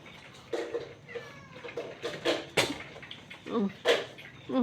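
A cat meows several times at close range, short rising and falling cries spaced irregularly, with faint background noise between them.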